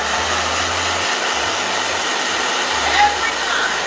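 A blow dryer runs with a steady, even airy roar throughout, loud and close, with a faint low hum underneath.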